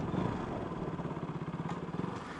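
A KTM RC200 motorcycle engine pulses with a steady, rhythmic mid-pitched throb while riding, moderately loud and continuous over a short stretch with no talk.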